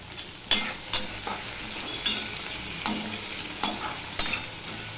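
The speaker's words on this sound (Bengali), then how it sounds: "দিয়ে পটলগুলো আমি ভেজে নেব।" Pointed gourd (potol) frying in oil with turmeric and salt, a soft continuous sizzle broken by about six regular stirring scrapes, close and moderately quiet.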